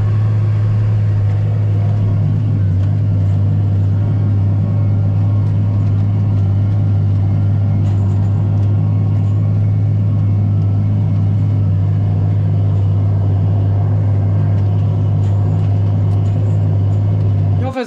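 Fendt 926 Vario tractor climbing uphill, a steady loud low engine drone with constant rumble running unbroken throughout, with faint voices underneath.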